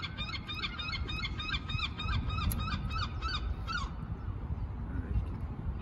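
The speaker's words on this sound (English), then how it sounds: "you can hear all the seagulls" A string of repeated seagull calls in Blackpool rings out for a few seconds over a constant low outdoor rumble, then fades, leaving only the background drone.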